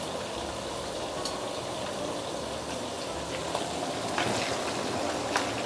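Vegetables with roast pork deep frying in hot oil at medium high heat, a steady dense sizzling and bubbling hiss with occasional pops, close and continuous.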